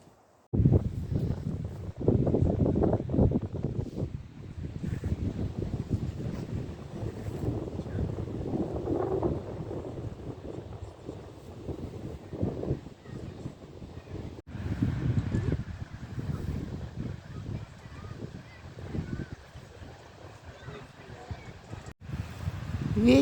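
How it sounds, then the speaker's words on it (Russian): Steady wind blowing across the shore of the Gulf of Finland, a continuous rushing roar buffeting the microphone, with waves likely mixed in and gusts swelling and easing over the stretch. "Ветер."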